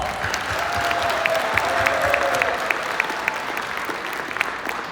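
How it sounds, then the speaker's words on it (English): Audience applause for guests from Tibet at a welcoming ceremony, a steady even wash of many hands clapping from moderately far, with a faint tonal hum running beneath for a moment. "please give our dear friends of Tibet a round of applause."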